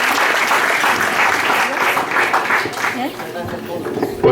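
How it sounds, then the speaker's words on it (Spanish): Young secondary-school students give a teacher a round of applause at a community event, steady crowd clapping throughout with voices mixed in under it. "un aplauso de todos los jóvenes"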